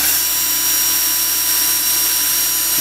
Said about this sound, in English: you're just going to drill at an angle